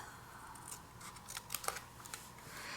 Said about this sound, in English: you want to take this and you want to cut out the design that you want